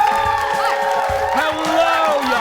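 A full studio audience at a TV talk show cheers and whoops continuously, a dense, loud roar of many voices with high shouts rising over it throughout.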